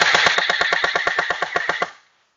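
An electric airsoft gun with a Version 3 gearbox fires on full auto, a loud rapid burst of evenly spaced mechanical cracks lasting about two seconds before stopping abruptly into silence.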